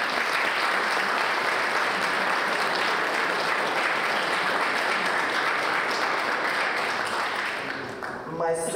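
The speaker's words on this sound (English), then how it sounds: "Please, big applause for them." Conference audience applauding its hosts with sustained, dense clapping that holds steady for several seconds before starting to fade at the end.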